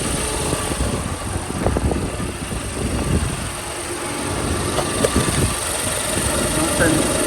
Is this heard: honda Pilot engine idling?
yes